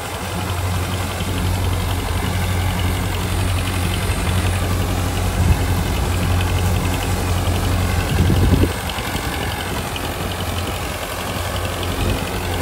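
A Farmtrac 6055 tractor engine runs a Panesar mini combine harvester, droning as a loud, continuous low rumble with a steady mechanical vibration and a brief surge partway through, with no voices.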